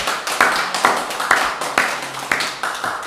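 A church congregation claps together in rhythm to give glory to God during a hospital church service, producing regular, evenly spaced loud claps in the room, roughly six or seven beats with a faint tap underneath.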